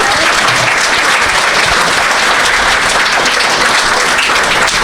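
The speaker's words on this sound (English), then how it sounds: "Give them a big round of applause." Loud, sustained applause from an audience at a crime-writing awards ceremony fills the whole stretch, a dense steady wash of many hands clapping with no break.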